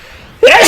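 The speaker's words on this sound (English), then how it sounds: "Oh jeez, I would sneeze." A single loud, close sneeze bursting out suddenly after a quiet moment.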